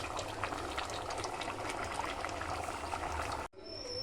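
Boti curry simmers in a pot as its water cooks off, a soft continuous bubbling and sizzling, close but quiet, then a brief cut to faint background sound.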